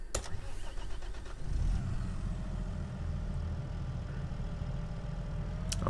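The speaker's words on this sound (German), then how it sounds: "Und dann erstmal mit dem Motor an." A Deutz Fahr Series 7 TTV tractor engine starting in the Farming Simulator 22 video game: a starter crank, then the engine catches and settles into a steady low idle, close and alone.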